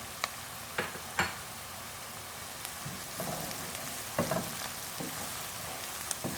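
Onion, ginger and garlic frying in oil in a pot for a spicy Pakistani-style pea curry, giving a steady close sizzle with occasional louder crackles and pops, no talking.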